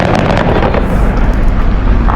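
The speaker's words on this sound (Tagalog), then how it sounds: "Dami yung paputok dyan!" New Year firecrackers in Greenland burst in a dense, continuous barrage, a loud rumbling wash of overlapping pops and blasts with wind noise on the microphone and no clear gaps.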